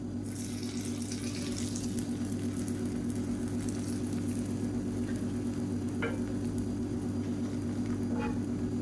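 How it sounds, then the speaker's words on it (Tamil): Beaten egg poured onto a hot, oiled flat griddle stone, a soft continuous sizzle and bubbling with a steady low hum beneath and a couple of faint clicks near the end. "இப்போ நம்ம கலந்து வச்சுருக்க இந்த முட்டையை வந்து இதை அப்படியே ஊற்றிக்கலாம்"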